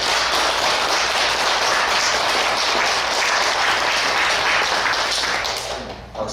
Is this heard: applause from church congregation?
yes